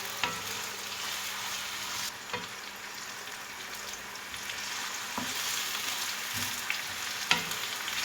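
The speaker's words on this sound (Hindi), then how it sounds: "प्याज को जो है हमने ज़्यादा नहीं फ्राई करना, इसे बिल्कुल सॉफ्ट सा करेंगे।" Chopped onions sizzle steadily in hot oil in a pan, a continuous close frying hiss with a few soft clicks of a spoon stirring them as they cook until soft.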